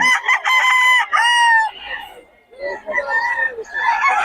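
Young gamecock roosters at Bocaue poultry market crow in long, loud calls, one after another with brief gaps, close to the listener.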